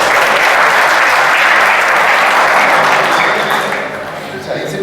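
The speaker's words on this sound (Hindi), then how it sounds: "चलो तालियां होनी चाहिए एक बार" Loud, dense applause from a crowd of students at a coaching class gathering, a thick roar of clapping that holds steady before easing off slightly near the end.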